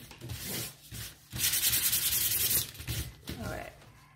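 Short bursts of sandpaper rubbing back and forth over painted wood between coats, a few strokes with brief pauses between them, close and fairly quiet.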